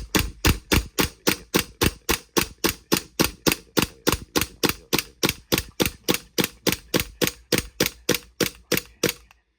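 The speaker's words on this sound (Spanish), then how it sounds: "Voy a sujetar y voy a disparar" A WE Walther P38 airsoft replica pistol fires a long, steady run of sharp, snappy shots, about three per second, close by and loud, with no talking.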